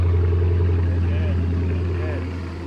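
Chrysler 300 SRT8 with a Hemi V8 idling just after starting, a loud steady low rumble that eases slightly toward the end, with no tapping, and a person speaks briefly over it.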